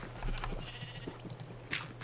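Sheep in the Minecraft video game bleat several times in quick succession, close and fairly loud, with short game clicks and bursts of noise mixed in and no voices.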